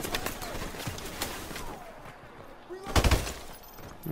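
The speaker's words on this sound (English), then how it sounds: "this is an M16 with a grenade" An M16 rifle fitted with a grenade launcher fires in a shooter video game, with scattered shots across the clip and a louder cluster of blasts near the end, all fairly faint and mixed with game noise.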